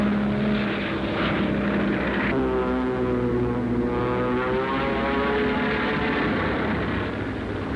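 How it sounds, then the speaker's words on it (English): A steady, droning roar of WWII American bomber propeller engines in flight, with a continuous throbbing hum and shifting tonal whine, loud and sustained throughout. "American bombers under heavy ack-ack fire"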